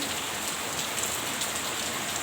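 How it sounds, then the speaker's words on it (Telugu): Steady unseasonal rain falls continuously, a dense even hiss of drops on surfaces with no voices. "ఈరోజైతే మరి కాసేపు స్లో అవుతూ వస్తుంది వాన"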